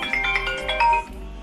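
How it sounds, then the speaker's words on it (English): A phone alarm ringtone plays loud and close, a bright repeating electronic melody of quick chiming notes that stops abruptly near the end. "why does she have an alarm like her phone is ringing?"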